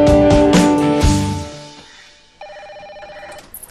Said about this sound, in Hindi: आखिरकार एक दिन फोन बजा।